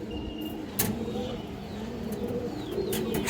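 Indian highflyer kaldum pigeons at a Bengali pigeon seller's loft, cooing softly amid steady background noise, with a couple of brief sharp clatters.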